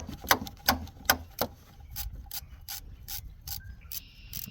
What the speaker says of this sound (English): My ratchet's on the bottom bolt right now.